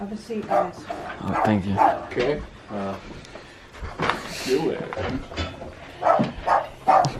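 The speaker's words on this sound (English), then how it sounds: "Sorry about the dog barking." A dog barks indoors in a house, with repeated sharp barks and yips scattered through the passage, close by and mixed with people talking over it.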